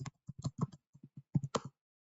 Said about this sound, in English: So now I will type